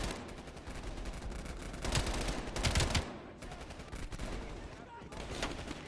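Automatic gunfire from an L86 in Black Ops Cold War, repeated bursts of shots rattling throughout at moderate level, with a mix of nearer and more distant fire.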